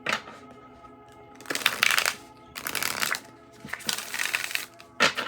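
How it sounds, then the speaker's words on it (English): A thick, sturdy oracle card deck with matte silver gilding being shuffled in several quick bursts of riffling and papery snapping, close and crisp, separated by short pauses. "Let's give it a shuffle."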